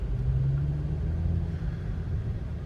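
A BMW car engine on a short test drive, a steady low rumble heard from inside the cabin, holding a constant drone with slight rises; no talking.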